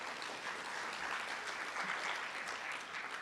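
An audience at an Eastern Cape education department provincial indaba gives a round of applause for the MEC and department leadership, steady continuous clapping heard at a modest level throughout.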